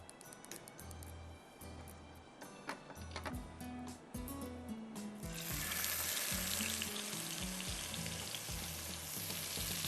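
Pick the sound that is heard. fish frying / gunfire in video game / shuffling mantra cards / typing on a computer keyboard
fish frying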